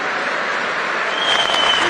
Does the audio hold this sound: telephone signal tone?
no